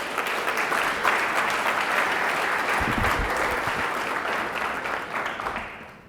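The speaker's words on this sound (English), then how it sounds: "Let's give them a round of applause" Thick, sustained audience applause fills a gala dinner hall at the Four Seasons, staying steady for several seconds with a few louder claps before tapering off at the end.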